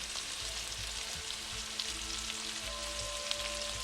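Baby corn sizzles in a hot pan for Singapore noodles, a steady close frying hiss with faint spatters and the odd light clink, and no talking.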